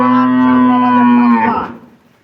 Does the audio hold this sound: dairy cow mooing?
yes